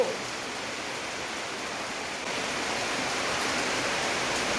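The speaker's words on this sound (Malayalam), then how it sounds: "നല്ല മഴയാ" Steady heavy rain pours down outside a home, a dense, even hiss that holds at a constant level throughout, with no voices over it.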